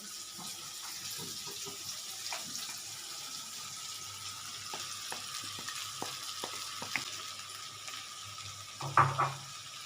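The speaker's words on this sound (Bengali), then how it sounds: "এবার আমি গ্যাসের আঁচটা একটু বাড়িয়ে দিচ্ছি এর মধ্যে আমি একটু গরম জল করে রেখেছি এটার মধ্যে আমি একটু গরম জল দিয়ে দেবো প্রথমে আমি সুজিটা দিয়ে দিচ্ছি" Semolina for rava suji upma roasting in a hot pan over a gas flame, heard as a steady low sizzle with scattered scraping stirs and a louder clatter near the end, with no talk.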